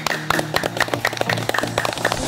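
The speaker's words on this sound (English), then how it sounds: "We're clapping because the Fireflies will respond to the noise by lighting up more." A group of people clap in quick, uneven bursts outdoors at night to make fireflies light up, the claps sharp and close with steady background noise throughout.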